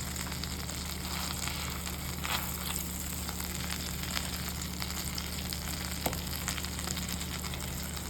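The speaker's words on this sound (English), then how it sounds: "Now I'm going to toast all of our buns in this beautiful golden melted butter." Muffin buns toast in golden melted butter in a pan, producing a dense, even sizzle that holds steady at close range, with faint clicks here and there.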